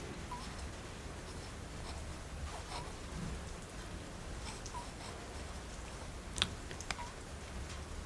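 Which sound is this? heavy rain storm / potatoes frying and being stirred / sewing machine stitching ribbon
heavy rain storm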